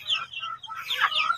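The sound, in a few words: free-range chickens in breeding area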